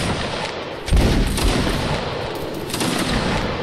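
Musket volleys crack out in a Napoleonic Wars battle game, a dense rolling fusillade of many overlapping shots with a heavy burst near the start, sustained and loud throughout.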